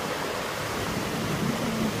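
Sea waves surging up onto a sandy beach, a dense continuous wash of surf close by, steady and broad with no voices.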